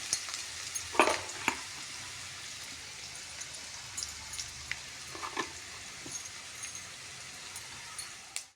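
Samosa filling sautés in a pan with a soft continuous sizzle, broken by a few sharp stirring clacks and scrapes, moderately close and quiet, with no talk.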